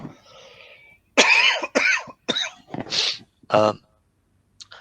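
A burst of several loud, harsh coughs close up, coming in uneven bursts after a brief moment of quieter sound.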